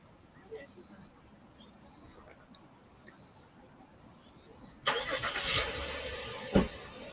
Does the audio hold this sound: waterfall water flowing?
no